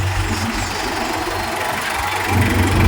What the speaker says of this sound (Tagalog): Ayos ang makina, makinig.